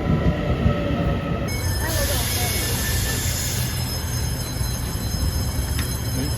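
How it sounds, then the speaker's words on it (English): Newer-model local train arriving at Taipei train station, a loud, continuous rumble of rolling wheels with metallic squeals and brake hiss close by, while people talk faintly in the background. "Here's the train. This one is a local,"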